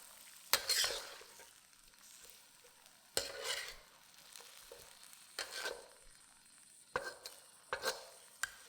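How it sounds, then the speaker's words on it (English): A spoon stirs mince, potatoes and peas in a pot of cinnamon-spiced water. It makes several separate scraping and clinking strokes with short pauses between them, close by and fairly quiet over a soft sizzle. "Mix this well and bring it to a boil."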